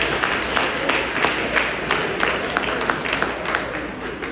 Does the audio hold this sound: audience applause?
yes